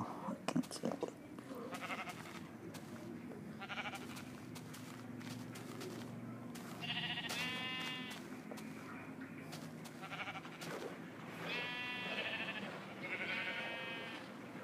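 Sheep bleating in Minecraft on iOS, several short quavering bleats in small bursts, faint and fairly close, with footstep sounds and quiet gameplay noise between them.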